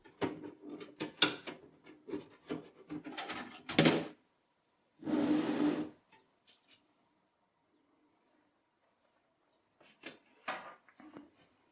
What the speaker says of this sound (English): To remove it, we first have to remove the front bezel.